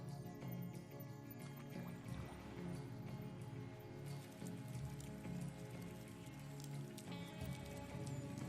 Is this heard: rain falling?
yes